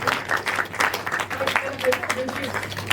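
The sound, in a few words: audience clapping at a conference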